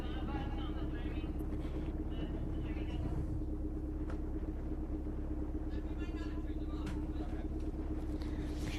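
A Mazdaspeed Miata runs at an autocross event at St. Lucie Fairgrounds, a steady engine rumble heard at a distance, with announcer commentary over it.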